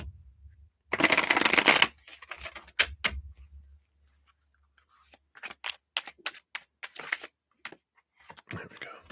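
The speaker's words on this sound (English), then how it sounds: "Let me just shuffle these ones." A brisk riffle of tarot or oracle cards being shuffled, followed by a series of light snaps and taps as cards are handled, with soft talking in between.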